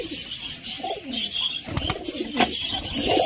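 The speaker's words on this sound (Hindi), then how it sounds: "कबूतर अपने घर के खिलाते हुए दाना खिलाते हुए" Pigeons coo while being fed grain at their home loft, several soft, close throaty coos rising and falling at irregular intervals, with sharper chirps and brief rustles in between.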